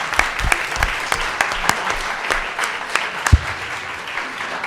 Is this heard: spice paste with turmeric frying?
no